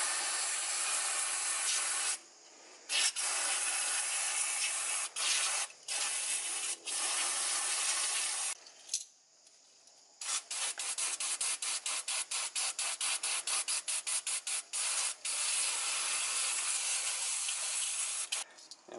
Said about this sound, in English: Now I'll just use a bit of degreaser just to get all those last little bits of grease out of there.